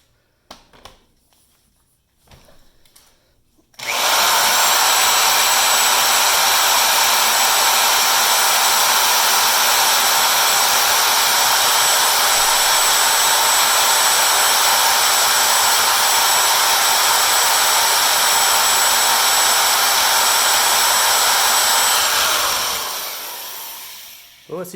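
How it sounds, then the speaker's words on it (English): Power drill boring into a Paclock 95G padlock: after a few quiet seconds, a loud, steady, high-pitched whine starts abruptly, holds for about twenty seconds, then winds down. "Let's see if we can drill that spool out."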